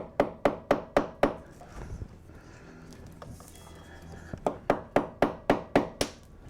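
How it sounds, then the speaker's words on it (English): A hammer striking a nail and clip into brick or mortar in a garage, two bursts of rapid sharp blows at an even pace, loud and close, split by a short quiet pause. "I hate nailing into bricks or mortar or anything like that."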